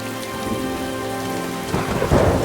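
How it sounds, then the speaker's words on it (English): Thunder from a lightning strike in a film scene rumbles under steady heavy rain, swelling into a loud, close crack and roll near the end with no voices. "Oh, cool lightning strike there."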